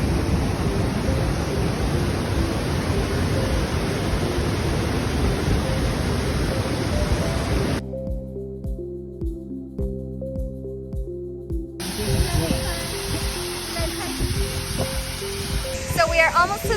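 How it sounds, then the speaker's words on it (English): A waterfall on a scenic hiking trail roars as a loud, continuous broadband rush, briefly interrupted by a quieter gap with faint clicks before the steady rushing returns. "We stopped at this beautiful waterfall to get some pictures"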